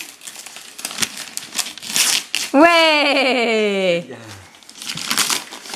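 Christmas gift wrapping paper, taped heavily, being torn and crumpled open in bursts, with a long squeaky, swooping sound in the middle; people talk and encourage throughout.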